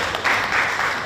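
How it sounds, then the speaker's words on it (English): Audience at a fundraising talk show event applauds, a brief burst of dense crowd clapping at steady loudness, cut short. "Just give him a round of applause."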